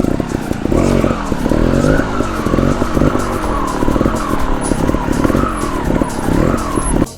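A trial motorcycle revs in short, repeated throttle blips while held in a wheelie, each rising and falling engine note loud and close, with a high squeal cutting through near the end.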